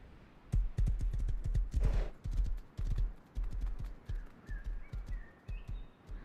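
Horse hooves clip-clopping in the survival game Rust, a steady run of close, loud hoof thuds with brief pauses, and a few faint bird-like chirps behind them.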